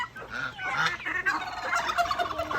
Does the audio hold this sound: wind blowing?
no